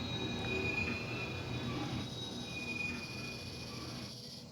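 Freight train boxcars rolling on track with steady, high-pitched wheel flange squeal running through the whole stretch over a continuous low rumble, no voices.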